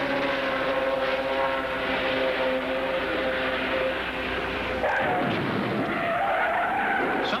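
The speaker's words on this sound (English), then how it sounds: "Something broke in the right rear, and the car is forced into the wall." A 1986 Indy race car on a practice run: a sustained, loud engine and tire roar, then an abrupt harsh burst of noise as something breaks in the right rear and the car is forced into the wall. No speech.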